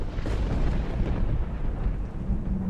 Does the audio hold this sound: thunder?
yes